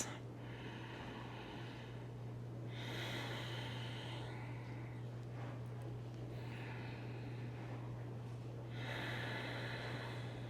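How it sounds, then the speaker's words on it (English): Slow, deep breathing during a yoga flow, long airy inhales and exhales in an even rhythm, several full breaths close by over a steady low hum. "Big, deep breaths."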